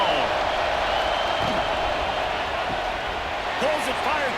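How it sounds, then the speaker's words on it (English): A steady roar of a high school football crowd cheering in the stands, sustained throughout, with a few sharp thumps and a voice talking over it. "This crowd ready to make its presence known."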